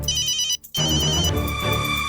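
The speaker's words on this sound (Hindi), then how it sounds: "बॉस का फोन है।" An electronic phone ringtone trills in repeated bright tones, halts for a brief gap, then rings again louder, close by indoors with no speech.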